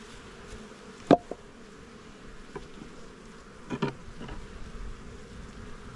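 Honey bees buzz faintly around nucleus hives in an open yard, a soft low hum with a couple of louder passes as single bees fly close by.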